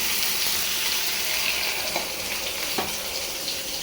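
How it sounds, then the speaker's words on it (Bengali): Sweet pumpkin frying in a pan, a dense, even hiss of oil and sizzle held close and steady, with a couple of faint clicks of a utensil near the end. "আর মিষ্টি কুমড়া ভাজি বসাইলাম, এই যে"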